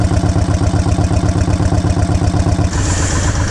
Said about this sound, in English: The longer the bike stays on, the more it heats up, the nicer it sounds.